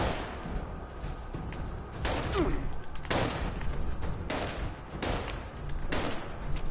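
Several loud bursts of gunfire in Fallout 76 crack out at irregular intervals over a constant rushing background.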